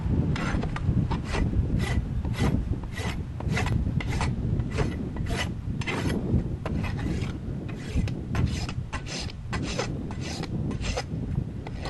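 Farrier's rasp smoothing a freshly shod horse's hoof after the nails are clenched: continuous close-up scraping strokes, loud and rhythmic, repeating evenly for about twelve seconds without any voices.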